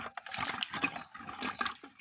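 Amra fruit being rinsed in water by hand, close sloshing and splashing with running, dripping water in uneven bursts, no speech.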